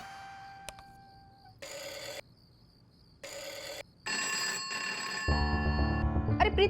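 A landline telephone rings in a home, with short bursts of ringing separated by pauses, followed by further tones and a louder musical sound near the end.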